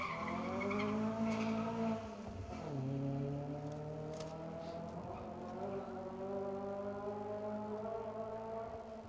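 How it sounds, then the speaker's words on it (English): Rally car on asphalt at the Manx Rally, with tyres squealing loudly in long sustained wails as it slides sideways through a hairpin, engine note rising and falling beneath, heard from a distance. "The tyre squeal up there."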